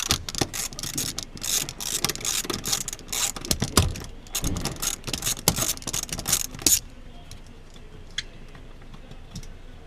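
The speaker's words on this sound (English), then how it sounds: "now we'll remove these bolts from the front of the seat here. They're 14mm." Quick ratcheting clicks from a ratchet backing out 14mm seat bolts on a 2007–2011 Toyota Kluger, a close, dense run of mechanical ticking through the first seven seconds, then only sparse faint clicks.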